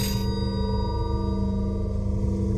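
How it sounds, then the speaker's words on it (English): A telephone ringing in a quiet study: a sustained, bright tonal ring with long sustained overtones that decays slowly, heard alone with no voices. "As he read in his study, the phone rang."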